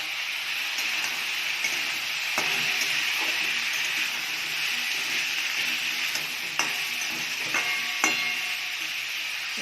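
Vegetables stir-fry in a pan with coriander, cumin, green chilli and salt for a chicken stew, giving a steady close sizzle with scraping stirs and clinks throughout.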